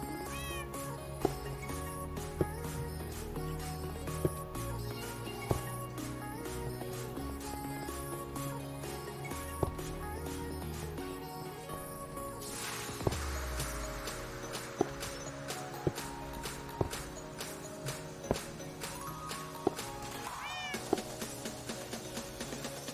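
Repeated meows from a cat, evenly spaced and fairly close, play over steady background music with sharp clicking sounds throughout.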